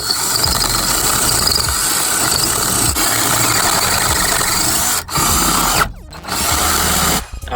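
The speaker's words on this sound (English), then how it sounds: "my drill battery is low. Still gonna make it work, man." A cordless drill on a low battery whirs loudly and continuously, with brief dips and stops as the motor strains and restarts near the end; no one speaks.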